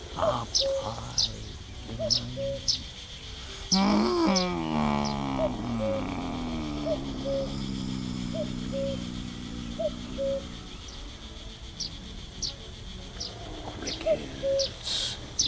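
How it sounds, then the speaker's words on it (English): Sparrows chirp high up in a hunting video game, giving short bright tweets in scattered bursts over a steady woodland ambience, while a cuckoo's paired notes repeat lower down and a person talks briefly partway through. "Sparrows up high"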